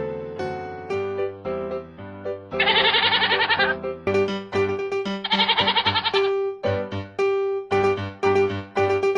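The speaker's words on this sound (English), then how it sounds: "Goat." Goats bleat loudly in a series of wavering, repeated calls, some long and trembling, others short, close and clear with no talk.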